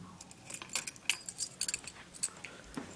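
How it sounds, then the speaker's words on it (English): Car keys for a Nissan Sunny jangle up close in a short burst of light metallic clinks and rattles, with no one speaking. "just getting the keys"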